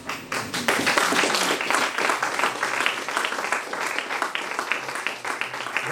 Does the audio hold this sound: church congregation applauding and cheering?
yes